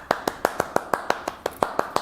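A single person claps by hand, about a dozen sharp, evenly spaced claps in quick succession, close and clear with no talking over them.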